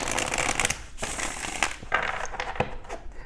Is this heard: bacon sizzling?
no